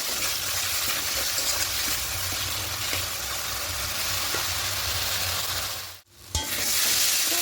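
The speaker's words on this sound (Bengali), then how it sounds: "এবার সব কিছু একটু ভালো করে একটু কষিয়ে নেবো আদা রসুনের কাঁচা গন্ধটা চলে যাওয়া পর্যন্ত" Ginger-garlic paste sautéing in a pan for chicken kosha: a steady, close, loud sizzle with stirring scrapes throughout, briefly cutting out near the end before resuming.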